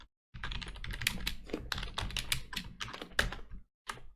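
Rapid keyboard typing, close and crisp, with irregular bursts of key clicks between brief pauses and no voices.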